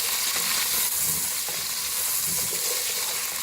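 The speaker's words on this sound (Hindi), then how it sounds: "हल्का सा कड़कड़ाएंगे इनको, थोड़ा सा हल्का सा ब्राउन हो जाएगा तो साथ ही हम प्याज शामिल करेंगे" A medium onion browning in a hot pan, giving a constant close sizzle with stirring scrapes throughout.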